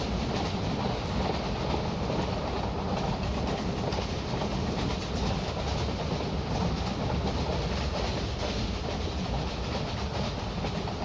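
A passenger carriage from Train Simulator Classic rolls steadily along the rails in India, giving a continuous, dense rumble and hiss of wheels and wind heard from outside the carriage.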